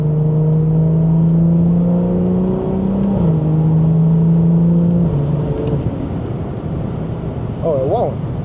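A BMW 340i with the B58 engine, driven on the road, holds a loud steady engine drone that dips and shifts pitch around gear changes, close and continuous, with a brief voice near the end.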